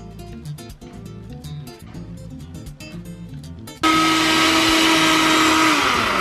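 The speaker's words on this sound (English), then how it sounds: "now we're going to our blender with this mix" A kitchen blender kicks in abruptly and roars steadily at full power, loud and close, whirring a cooled homemade hot sauce mix after a stretch of other sound.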